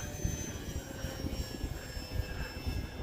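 Durafly Tundra V2 RC airplane taking off in windy weather, a steady high electric motor and propeller drone with a buzzing whine over gusty wind rumble, close and continuous.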